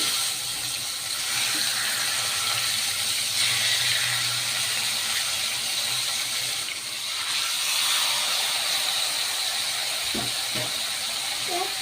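Chicken pieces sizzle and hiss steadily in lightly heated oil in a home kitchen for the grilled chicken. A broad, continuous crackle carries throughout, with a few faint clicks near the end.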